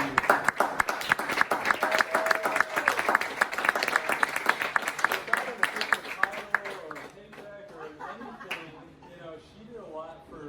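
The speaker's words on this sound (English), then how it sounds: "give her a big round of applause and thank you" Audience at a sports medicine fellowship banquet breaks into loud, dense applause that holds steady, then thins out and fades while voices chatter and talk continues over it.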